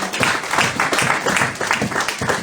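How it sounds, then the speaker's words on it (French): A church congregation clapping together at a service, a loud dense round of rhythmic applause with voices mixed in throughout. "Acclame le Seigneur"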